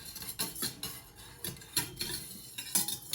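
A spoon stirs a blue homemade play dough mixture in a bowl, giving close, irregular scraping and clinking strokes, several quick bursts in a loose rhythm with no voices.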